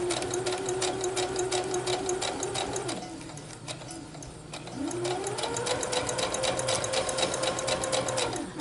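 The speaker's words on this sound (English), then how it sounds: "I know a lot of machines say you can sew over the pins." A sewing machine stitches quilt pieces in rapid, steady bursts, briefly slowing and pausing in the middle before running again at full speed, close and clear with no talk.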